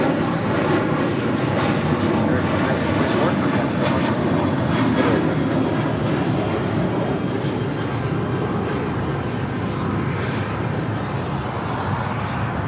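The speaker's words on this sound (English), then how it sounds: "That was American Airlines Flight 1924 heading to Las Vegas in the 737-800" An American Airlines Boeing 737-800 jet roars steadily at LAX, a loud, sustained engine rumble and whine that holds strong throughout with a slight shift in tone near the end.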